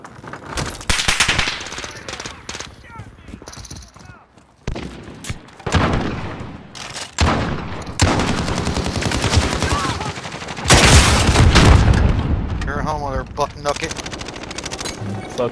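Rifle and automatic gunfire in Call of Duty: Modern Warfare, a multiplayer match with repeated loud bursts and single shots, some heavy booms, and a player talking between the volleys.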